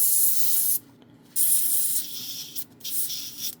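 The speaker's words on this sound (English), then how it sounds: "So let's spray some out." Airbrush spraying with dry paint inside in hissing bursts: a long spray, a short pause, then more sustained hissing with brief breaks, close and fairly loud.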